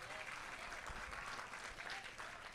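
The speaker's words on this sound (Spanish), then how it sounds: "Alguien le da un aplauso" Congregation applauding during a church prayer service, a steady dense wash of clapping that fills the whole moment, with voices faintly mixed in underneath.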